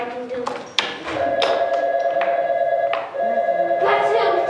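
A telephone rings on stage during a live community theater performance of The Odd Couple, its steady electronic trill sounding in two long bursts with a short gap, fairly loud against faint stage noise and knocks.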